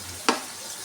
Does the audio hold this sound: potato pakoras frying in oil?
yes